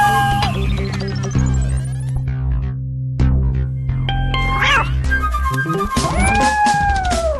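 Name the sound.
cat meowing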